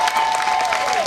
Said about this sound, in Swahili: Tumpigie makofi sana.